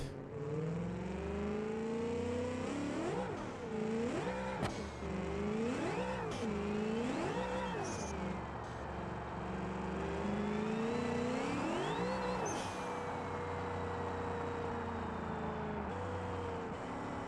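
A car in a racing video game launches off the line and accelerates, its engine surging and dropping through a series of rising revs as it shifts, then holding a loud, sustained drone at speed.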